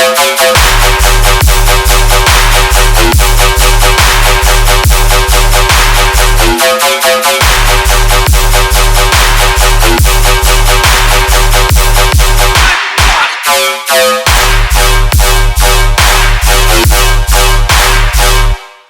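The second drop of a riddim track hits loud and dense, pounding out a heavy, repetitive bass pulse under gritty synth stabs. Brief gaps break it midway, then it drives on in the same rhythm.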